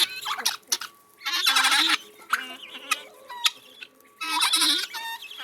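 Farmyard turkeys and Brahma chickens calling close by, bursts of gobbling and squawking clucks in several loud clusters separated by short quiet gaps.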